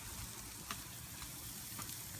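Sausages sizzle steadily on a barbecue grill outdoors, a continuous close frying hiss with a few soft pops and no talking.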